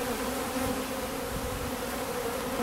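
Honeybees swarm around an open hive at an organic tropical fruit and bee farm in Tenerife. Their dense, steady buzzing drones close and loud throughout, with no other sounds and no speech.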